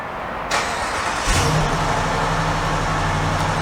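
A 2023 Jeep Grand Cherokee L Summit Reserve's 5.7 Hemi V8 starts by remote, a quick crank and catch followed by a low, steady, muffled idle heard close by.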